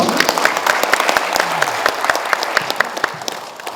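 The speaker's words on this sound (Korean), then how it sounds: "박수 한 번 더 주시고요" An audience claps steadily at the 5th Munmu Daewang Ocean Award ceremony, a dense, continuous patter of many hands filling the hall with sharp individual claps standing out.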